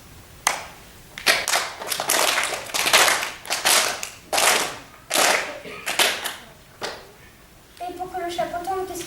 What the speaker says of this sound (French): Frappe tes mains l'une contre l'autre.